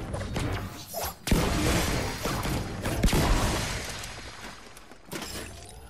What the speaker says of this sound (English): let's pop this barrel